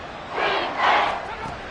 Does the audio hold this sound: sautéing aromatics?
no